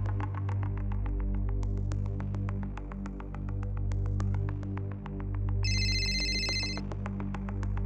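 A steady electronic tone pulses with a regular throbbing beat and a low hum beneath, like a phone ringtone, with a brighter chiming burst near the end.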